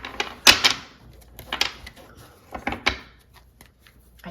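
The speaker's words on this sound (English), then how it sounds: "I just have to give these a quick shuffle" A deck of tarot cards is shuffled by hand in several quick riffles and taps, crisp papery bursts close up with quiet pauses between them.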